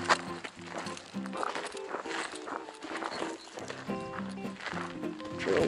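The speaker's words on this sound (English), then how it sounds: "that's your horses over there" Horses on a desert mountain hiking trail near the Embudo horse bypass, with intermittent hoof clip-clop and footsteps mixed with steady outdoor ambience, fairly close and moderately loud.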